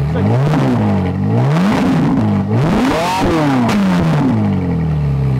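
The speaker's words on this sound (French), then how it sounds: "la Corvette a un son très américain. Ça sonne comme un bon vieux V8 américain" A Chevrolet Corvette Z51 with an American V8 revs loudly and close, the engine pitch repeatedly climbing and dropping through several throttle blips, with a deep rumbling tone throughout.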